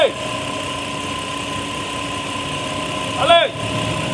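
A Kia Rondo engine idles steadily with its AC compressor running, a constant hum with tonal whine; voices speak near the end over a rising sweep.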